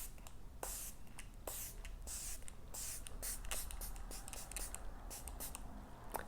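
A BYOMA skincare facial mist pump bottle fires a rapid series of short, close, quiet spritzes, each a brief airy hiss, with no talk.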